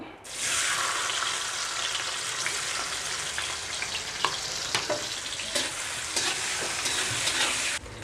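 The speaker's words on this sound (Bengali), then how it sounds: "ক্যাপসিকামগুলো হয়ে গেছে, তুলে নেবো আমি, কারণ এগুলো খুবই হালকা হালকা ভেজে নিচ্ছি।" Capsicum fries lightly in a pan for fried rice, giving a constant close sizzle broken by occasional scrapes and taps of a stirring utensil.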